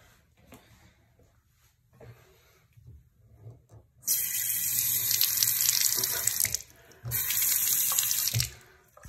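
A bathroom sink tap is opened twice, each time sending a steady, loud rush of running water into the basin for a few seconds. Quiet handling knocks come before it, and a short pause separates the two flows.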